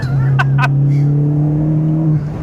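A 330bhp VW Polo GTi Clubsport-spec hot hatch pulls hard in second gear on a road, its engine droning loud and steady with a rising note, plus two sharp transient bursts early on.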